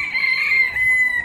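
A chicken in a garden gives a single drawn-out, strained call, loud and close, with a steady tone that fades slightly toward the end.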